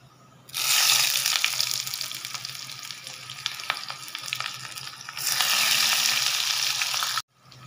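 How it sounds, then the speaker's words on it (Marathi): Mustard seeds dropped into a spoonful of hot oil in a kadhai, a loud dense spluttering hiss that bursts in suddenly, eases, surges again, then cuts off abruptly, with no voices. "आता मोहरी टाकायची. मोहरी छान तळतळली की मग कांदा घालायचा."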